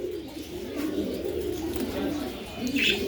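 Pigeons coo steadily and close by at a pigeon farm kept at a home, a soft continuous rolling murmur with a brief higher chirp near the end.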